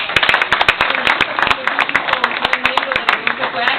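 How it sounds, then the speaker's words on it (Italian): Clapping at a small local gathering in Selvazzano Dentro, Veneto: sharp, distinct handclaps from a modest audience, close and fairly loud, with a few voices mixed in. "un applauso"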